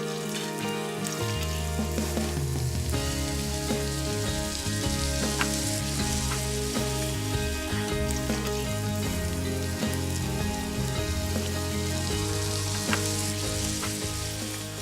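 Onions sautéing in warm peanut oil for vegan kheema mutter, a steady broadband sizzle running the whole time, with soft background music and no talking.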